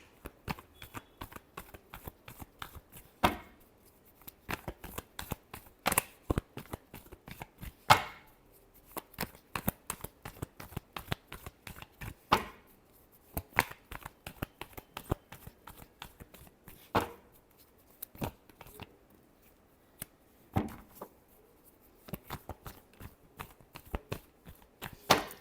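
Tarot cards being shuffled by hand, a series of crisp riffling bursts and soft slaps with short pauses between them, close and fairly quiet with no talking.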